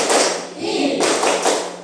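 A 'tepuk IPA' classroom clap in a seventh-grade science lesson, a few quick rhythmic bursts of clapping and tapping mixed with voices.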